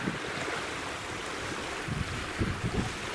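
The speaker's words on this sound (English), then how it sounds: "it's pretty windy right now" Strong wind blowing across open water by a bay, a steady broadband rush of gusts and wind buffeting the microphone, with faint low thumps of a boat or lapping waves near the end.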